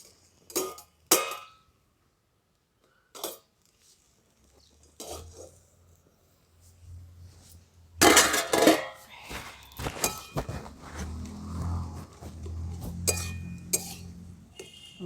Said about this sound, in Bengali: তো কিছুক্ষণ পর ঢাকাটা খুলে নিচ্ছি।